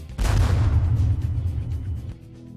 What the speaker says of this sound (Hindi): अचानक यहां होता है एक धमाका